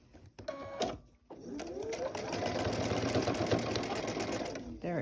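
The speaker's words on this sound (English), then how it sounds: "And then I'm going to sew my 1/4 inch seam allowance." A sewing machine stitches a quarter-inch seam during curved piecing, running in a steady, fast whir after some brief handling clicks and rustles, close and clear.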